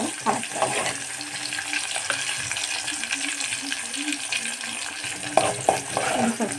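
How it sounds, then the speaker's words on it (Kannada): Onions frying in hot oil for egg curry, a steady crackling sizzle close by, punctuated by occasional taps and scrapes of a spoon against the pan. "ಸ್ವಲ್ಪ ಈರುಳ್ಳಿ ಕೆಂಪಾಗಬೇಕು. ಕೆಂಪಾಗಬೇಕಂತ ನಾವು ಹಾಕ್ತೀವಿ. ಸ್ವಲ್ಪ ಚೆನ್ನಾಗಿ ಇದು ಎಣ್ಣೆಯಲ್ಲಿ ಇದಾಗಬೇಕು"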